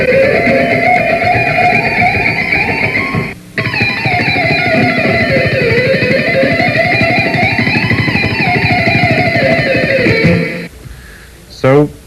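Distorted electric guitar plays a fast hot-rock lick, running quickly down and back up a pentatonic scale with a brief pause near the start and a short break near the end, loud and close.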